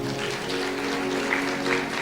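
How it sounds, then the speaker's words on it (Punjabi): A sermon audience at a Punjabi religious gathering claps loudly for a couple of seconds. A sustained hum runs beneath the burst of hand claps, and no one speaks. "ਤਾਲੀ ਮਾਰੀਏ ਜ਼ੋਰ ਤੇ"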